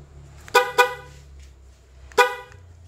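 Three short car horn honks from a Toyota Vios with a newly replaced horn module, two quick toots close together and a third after a pause, loud against a low idle hum.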